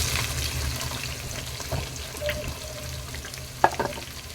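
Sliced onions frying in oil in a pan for mushroom biryani, a steady low sizzle throughout with a few brief clinks and stirring scrapes near the end, no voices.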